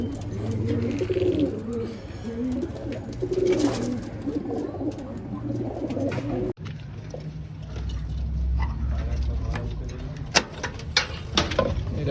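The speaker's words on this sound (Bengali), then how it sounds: "এগুলো শুধু ওড়ার পায়রা" Madrasi flying pigeons cooing in a loft, low repeated coos at close range with occasional mechanical clicks and knocks and faint background voices.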